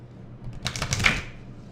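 Jewelry design cards being shuffled by hand, a short burst of flicking, riffling card noise rising and falling over about half a second, fairly close, with a low steady hum underneath.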